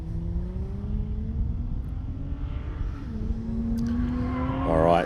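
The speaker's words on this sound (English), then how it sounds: "MX-5 has just left the line." A Mazda MX-5 race car pulls away from the start line at a hillclimb. Its engine drones from a distance and rises in pitch as it accelerates, and the sound swells toward the end.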